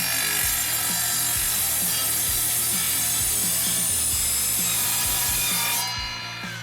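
An Evolution 40V cordless miter saw cuts through 1.5 inch steel square tube with a 1/8 inch wall, a loud, harsh continuous grinding screech with rhythmic chatter that eases off at the end.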